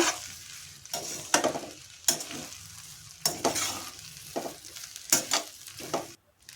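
Egg fried rice is stirred in a pan over high flame: a steady sizzle punctuated by repeated scraping, tossing strokes of the spatula, close and loud, with no talking.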